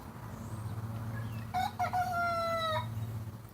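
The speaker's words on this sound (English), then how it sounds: "Hearing the old rooster crow." An old rooster crows once on a farm, a clear rising then held call with bright harmonics, fairly close and alone over a steady low background hum.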